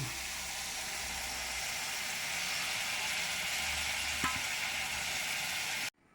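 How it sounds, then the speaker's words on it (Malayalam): Tamarind water poured into a sizzling curry for a vaduva puliyan lemon dish, giving a steady broadband frying hiss that holds throughout, with a brief splash near the end before it cuts off. "ഇനി നമുക്ക് പുളിവെള്ളം ഇതിലേക്ക് ചേർക്കാം"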